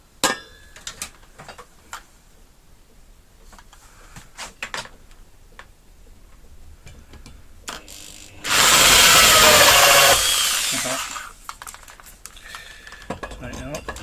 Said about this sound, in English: Might get a bit noisy with the drill